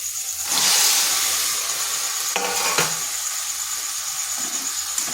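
Jackfruit seeds drop into hot spiced oil in a pan, setting off a loud burst of sizzling that settles into steady frying, with a few sharp clinks of a spoon stirring.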